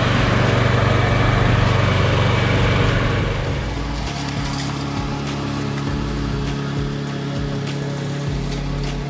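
A Masport Black Viper lawn mower's engine runs steadily and fairly loudly after being started, with a constant low drone and no voices.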